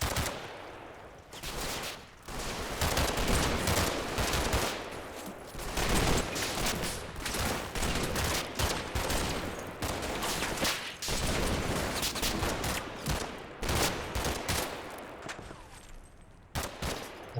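Sustained heavy gunfire from a platoon in the wargame Combat Mission, set in Normandy during Operation Epsom: dense, continuous bursts of rifle and machine-gun fire crackling throughout, loud and unbroken, with brief lulls near the end.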